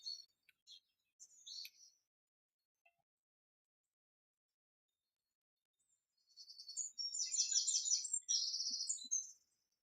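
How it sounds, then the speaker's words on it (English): Birds chirp in short scattered bursts, then a busier stretch of high, rapid twittering follows, all fairly faint with silence in between. "Do you hear the birds?"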